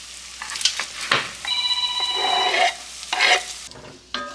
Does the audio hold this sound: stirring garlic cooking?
yes